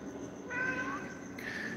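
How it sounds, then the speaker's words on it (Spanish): A cat outside Mexico's National Palace gives two faint, short meows against a steady hum of outdoor background noise. "Miren, ahí va el gatito."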